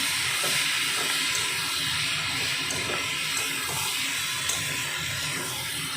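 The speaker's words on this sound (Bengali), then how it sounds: "ধনে গুঁড়ো জিরে গুঁড়ো দিচ্ছি। এখন আর একটু কষিয়ে নেব।" Coriander and cumin powder sauté with tomato in a hot pan, giving a steady, close sizzling hiss that carries on unbroken for six seconds.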